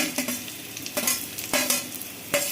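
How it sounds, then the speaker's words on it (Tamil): Raw mango pieces hit a sizzling tempering of mustard seeds and dried red chillies in oil, bringing a steady close frying hiss broken by several sharp bursts and clatters of stirring and pieces dropping in, with nobody speaking. "காஞ்சி மிளகா பொரிஞ்சிருச்சு மாங்காய் போடுறேன்"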